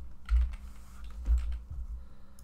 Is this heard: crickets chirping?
no